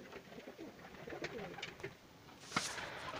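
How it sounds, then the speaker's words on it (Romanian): Domestic pigeons cooing in a loft beside nesting birds, soft repeated low coos at close range with a brighter flutter or call near the end, no talk. "Așa, ăștia sunt porumbeii."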